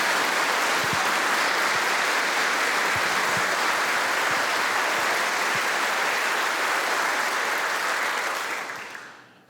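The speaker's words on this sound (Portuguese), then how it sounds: "vamos saudá-los com a calorosa salva de palmas" A congregation gives a warm, sustained round of applause to welcome clergy at a church dedication ceremony. The steady, dense clapping fills the space for about nine seconds before fading out at the end.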